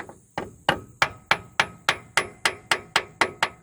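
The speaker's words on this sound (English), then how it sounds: "just to twist it round with a hammer, just gently tap it round" Regular metallic taps from a hammer gently turning a front differential part on a Nissan Patrol GQ, about a dozen evenly spaced strikes, each ringing briefly before the next; close and fairly crisp, with no voices.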